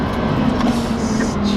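A supercharged Audi R8 V10 with a VF750 supercharger produces a loud, steady engine drone with a constant low hum, close and unbroken for a short stretch.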